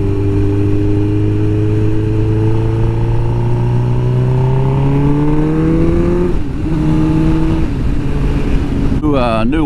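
A 2005 Suzuki GSX-R1000 K5 motorcycle on a test ride, its engine loud and close, pitch climbing steadily through the gears with brief dips at each shift and a sharp rev near the end.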